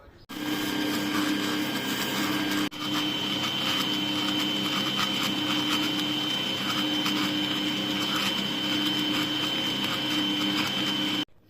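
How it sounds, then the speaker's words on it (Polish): An electric mixer whips egg whites with sugar in a continuous high whir, with one brief dip near the start before the motor runs on steadily. "Do piany dodajemy cukier stopniowo i miksujemy aż cukier się rozpuści."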